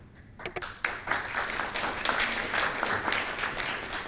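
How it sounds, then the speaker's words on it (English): Steady applause from a crowd, many hands clapping in a dense, continuous wash that holds at an even level throughout. "So take a moment to give yourself a round of applause."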